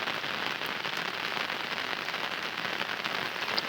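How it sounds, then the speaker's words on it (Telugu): Heavy rain still falling outdoors in a village during a long downpour, a steady even hiss of drops striking surfaces, fairly faint and continuous with no voices. "చాలా పెద్ద వర్షం అయితే పడింది అనమాట ఇంకా పడుతూనే ఉంది"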